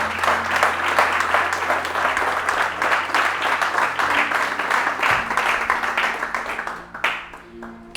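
A church congregation breaks into sustained, loud applause. Many hands clap together in a dense wash that holds steady, then thins out and fades in the final second.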